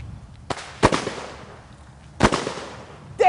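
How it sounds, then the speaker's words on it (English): Daytime fireworks shots launching outdoors at a live fireworks company demonstration: two sharp, loud thumping bursts about a second and a half apart, each trailing off in a crackling tail, with no talking. "Daytime fireworks. How cool is that?"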